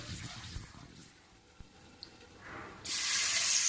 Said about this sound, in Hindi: बस 2 टेबल स्पून के करीब हम इसमें पानी डालेंगे ताकि मसाले हमारे अच्छे से कुक हो जाएं